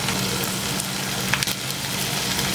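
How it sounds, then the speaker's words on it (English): Shrimp, plantain and peanut butter sizzle in a pan with sofrito while a spoon folds them together, a steady close frying hiss with a couple of brief stirring scrapes. "Great time to fold in the peanut butter."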